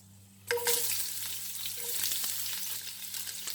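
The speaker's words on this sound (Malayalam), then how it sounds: "2 സവാള നീളത്തിൽ കനം കുറച്ച് അരിഞ്ഞിട്ടുണ്ട്, അത് ഇതിലേക്ക് ഇട്ട് കൊടുക്കുക." Two thinly sliced onions dropped into hot oil with cardamom for Arabic majboos, bursting into a sudden loud sizzle that then settles into a steady, close crackle.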